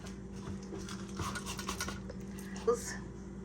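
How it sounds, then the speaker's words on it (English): A spatula scrapes and rubs against a pan of baked scalloped potatoes with bacon, quiet and close, ending in a slightly louder clink. "Let's go in with the spatula."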